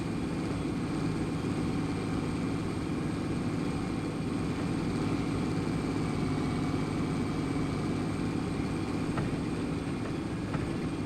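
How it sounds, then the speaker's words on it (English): A tractor in Farming Simulator 25 pulling a disc harrow across a field, a constant droning engine hum with steady low rumble and tonal whine, unchanging and loud throughout with no talking. "we'll see how our tractor makes out pulling this"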